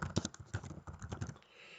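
Quick, uneven keystrokes on a computer keyboard while text is entered into a Microsoft Word document, a soft close pattering that stops in a quiet pause at the end.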